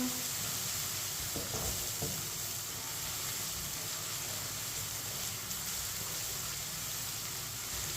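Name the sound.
ginger and garlic frying in a pan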